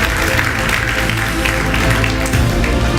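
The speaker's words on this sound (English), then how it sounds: "Can we have a round of applause for Ruud and Tom?" An audience at a tech event applauds as two speakers leave the stage, a steady, dense wash of clapping that runs the full length without pause.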